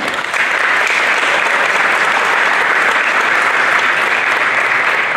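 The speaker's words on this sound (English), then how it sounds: "give them a quick round of applause" Steady applause from a crowd at a spring sports awards ceremony, loud and sustained, clapping blending into a continuous wash of sound from start to finish.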